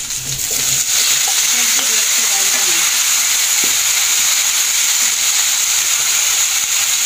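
Vegetables dusted with turmeric frying in a pan in a simple village kitchen, giving a loud, steady, close hiss of sizzling oil throughout, with a few faint utensil knocks and murmurs early on.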